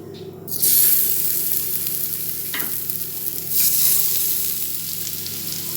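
Eggs dropping one by one into hot oil on an iron dosa pan, each landing in a sudden loud burst of sizzling that then settles into a steady crackle, close and with no voices.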